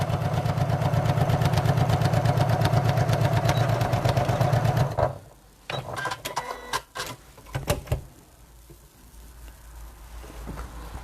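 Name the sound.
sewing machine stitching down the sides of a tote bag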